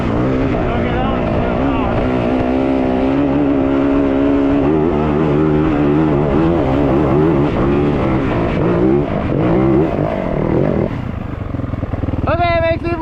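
An uncorked Yamaha WR450F dirt bike accelerating hard in second gear, engine note rising and falling through repeated revs, loud and close, with a sharp rising rev burst near the end.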